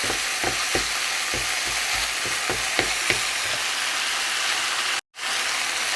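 Stink beans and minced pork stir-fried in a pan, with a steady loud sizzle broken by repeated scraping strokes of the spatula and a brief dropout near the end.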